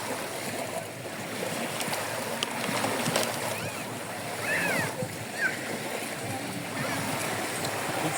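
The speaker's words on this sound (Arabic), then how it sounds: "وهذوما اجواء البحر" Sea waves wash along a shore at an evening gathering, a continuous rushing, splashing surf at moderate distance, with faint chatter and a few distant calls mixed in.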